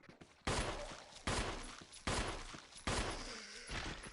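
Gunfire in Resident Evil as a zombie is shot: four loud, booming shots spaced roughly a second apart, each decaying into a long echoing tail.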